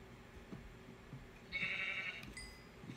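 A single faint sheep bleat from the Minecraft video game, about a second long, over low background noise with soft game sounds.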